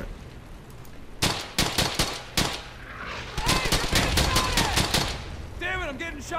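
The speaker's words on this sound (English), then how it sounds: "Damn it! I'm getting shot up." Gunfire in the World War II shooter Brothers In Arms: Hell's Highway, loud sharp rifle shots at first, then rapid bursts of automatic fire, with a voice briefly heard among the shots.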